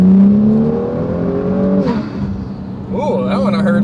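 A 2018 Kia Stinger GT fitted with a K&N cold air intake revs up and settles, a close steady engine drone with rising harmonics, overlaid by people talking.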